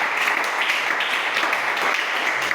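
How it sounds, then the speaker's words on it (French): A church congregation applauds the Lord Jesus Christ, dense sustained clapping filling the room at full volume throughout. "Acclamez d'abord pour le Seigneur Jésus-Christ."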